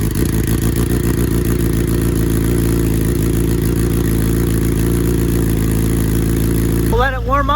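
A 2021 Kawasaki ZX10R sportbike engine, freshly rebuilt after a wreck, running at a steady loud idle just after a cold start, a dense continuous rumble that cuts off abruptly near the end.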